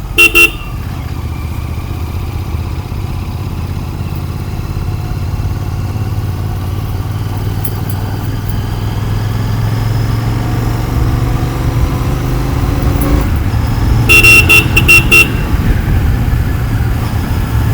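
Royal Enfield GT650 motorcycle ridden on the road, engine rumbling steadily throughout while its horn gives a short toot at the start and a longer run of loud honks near the end.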